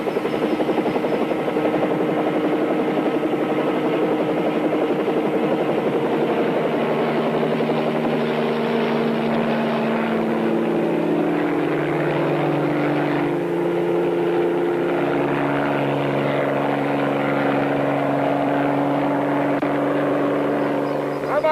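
A helicopter flies low over a rocky canyon, its rotor thrumming loud and steady throughout with voices talking over it.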